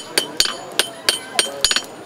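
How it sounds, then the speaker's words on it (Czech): Hammer strikes on hot metal at an open-air blacksmith forge at a Christmas market, sharp ringing blows in a steady rhythm of about three per second, close and bright, with a quick double strike near the end. "kde si děti mohou za pomoci kováře reálně vyzkoušet kování pod širým nebem"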